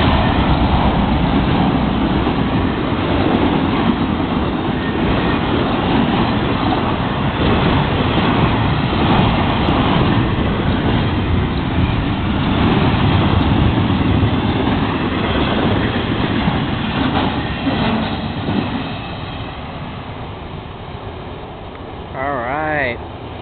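A Florida East Coast freight train with Seaboard locomotives and a caboose rolls steadily past at close range, a loud continuous rumble with wheel clatter that eases slightly near the end.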